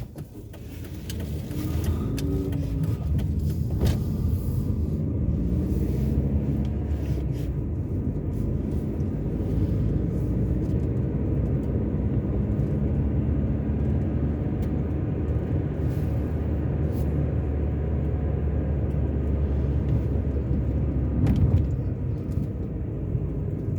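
A car drives along a suburban road in Cape Town on a winter day, a steady low rumble of engine and tyres with faint road noise, constant and close for the whole stretch, no voices.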